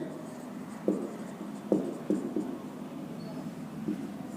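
Writing on a board during a business mathematics lesson on matrices comes through as a few scattered, faint tapping strokes over a quiet room hum.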